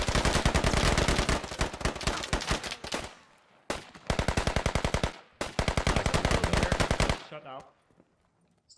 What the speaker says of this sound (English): Stop shooting us for just a second.